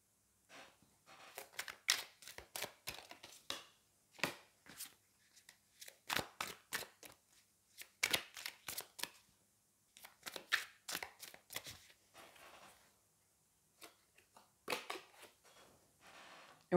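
Tarot cards being shuffled and laid down in a series of short, crisp papery snaps and flicks, close and fairly quiet, arriving in irregular bursts with brief pauses between them and no voices.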